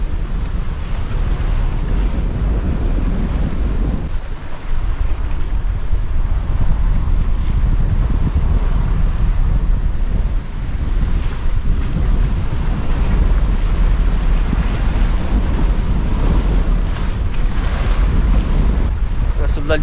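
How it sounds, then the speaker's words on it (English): Strong wind roars over a sailing boat at sea off New Zealand, a loud, constant rush of gusts and microphone buffeting mixed with water noise, with no voices. "Gone really windy. I'm surprised how windy it is."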